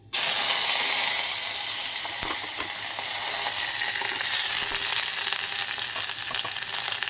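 Onions and curry leaves dropped into hot oil with mustard seeds, a loud, steady close-up sizzle and hiss that bursts up at once and holds evenly throughout.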